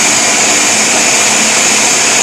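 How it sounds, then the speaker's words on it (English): A blender purees smoked pumpkin in one loud, continuous whir that holds steady throughout, close and alone with no talking. "We're going to go ahead and start pureeing this. We're going to just pulse it."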